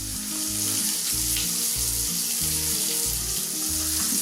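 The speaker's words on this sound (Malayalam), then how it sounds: "ഇനി ഒരു പാത്രം ചൂടാക്കിയിട്ട് അതിലേക്ക് 1 ടേബിൾ സ്പൂൺ നെയ്യ് ഒഴിക്കാം" Ghee heating in a pan on the stove while making a Kerala-style beef stew, giving a steady, close sizzle and frying hiss with low rhythmic rumbling underneath, continuous throughout with no talk.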